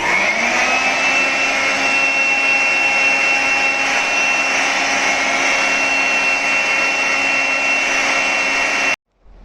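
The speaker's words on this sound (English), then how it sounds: "So for drying, we'll be using a handheld blow dryer." Handheld ambient blow dryer used to dry stainless steel parts after ultrasonic cleaning, a loud steady motor whine and rushing air held constant, cutting off abruptly at the end.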